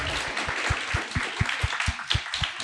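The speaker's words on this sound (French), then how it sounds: "je vous demande de faire un tonnerre d'applaudissements pour Mickaël aussi" An audience at a live Mangavore 2023 prize selection event claps for a guest, fast steady applause from a room full of people, fairly close and continuous for a few seconds with no talking.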